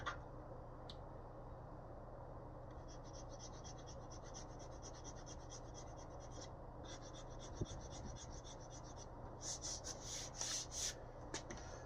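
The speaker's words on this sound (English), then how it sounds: "Erase some of the marks." An eraser rubs back and forth over marks on a surface, producing quiet rhythmic scratchy strokes that quicken near the end, against a faint steady hum.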